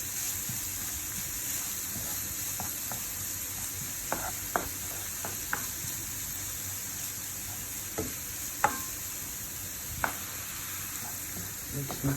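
Onions frying in a pan with a steady soft sizzle, and a spoon scraping and stirring at scattered moments. The sound is close and fairly quiet.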